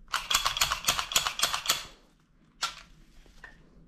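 A Sig Sauer P320 pistol being cleaned and reassembled gives a quick run of sharp metallic mechanism clicks, then after a short pause a single crisp dry-fire click, all close up in a quiet room.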